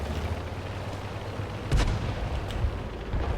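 Artillery fire in a tank video game: a muffled low boom about midway, then a fainter second thud, over a constant rumbling game background with no talk.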